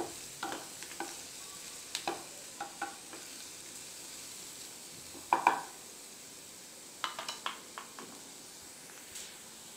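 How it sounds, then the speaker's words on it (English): Red chilies sauté with browned onions in a pan for pepper chicken, a low steady sizzle under intermittent scraping and clinks of a spatula stirring against the metal. "now add 3 red chilies. Saute it for 1 minute."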